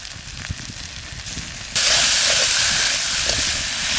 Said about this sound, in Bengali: অল্প তেল দিচ্ছি শুধু পেঁয়াজটা একটু কষানোর জন্য সামান্য তেল দিচ্ছি